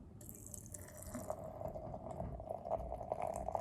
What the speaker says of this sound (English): I'm gonna pour it into this pickle jar.